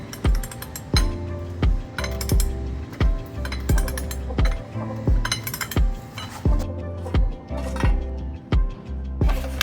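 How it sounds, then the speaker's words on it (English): Metallic clinks and ratcheting clicks from a wrench working an ISIS-style bottom bracket out of a 2006 Gary Fisher bicycle, repeated sharp taps in an irregular rhythm, close and fairly loud with no talking. "using my foot to take this bottom bracket out"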